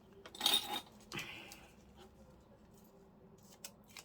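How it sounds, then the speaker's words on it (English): Scissors snipping paper while making a 12x12 flip-out pocket page from an altered file folder, two quick close cuts early on, then quiet handling. "Got some scissors."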